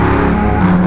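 A motorcycle engine runs loud and close along a lakeside road, a steady droning roar with a slight rise in pitch near the end and no speech.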